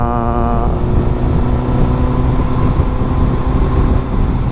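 A Suzuki GSX-S 1000 motorcycle engine runs with a loud, steady low rumble and a brief higher harmonic whine at the start, continuous and close throughout.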